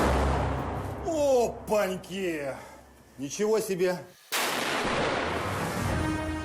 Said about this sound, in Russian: Shot, recoil.